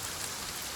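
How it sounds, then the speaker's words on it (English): Steady, dense rain hisses continuously and fairly loudly in The Forest survival video game, an even wash of falling drops with no voices. "Wow, that rain is really loud."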